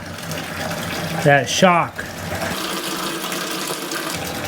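Hot water running steadily from a hose or tap into a bucket for opening an above-ground pool, a continuous rushing fill heard close by while someone talks briefly over it.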